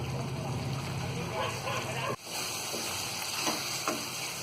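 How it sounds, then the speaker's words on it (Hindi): Curd frying in a pan over medium heat for a masala fish curry, a steady soft sizzle with a few stirring scrapes and clinks, moderately close. "दही डाल के भी हम अच्छी तरह भून लेंगे"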